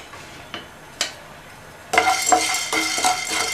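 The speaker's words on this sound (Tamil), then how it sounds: "இதையுமே இந்த பேனில் சேர்த்துட்டு நல்லா சூடு ஏறுற வரையும் வறுத்தா போதும்" Black peppercorns are tipped into a pan and dry-roasted. A few light taps sound first, then the scatter of the peppercorns rattling against the metal, followed by a continuous clattering stir close by.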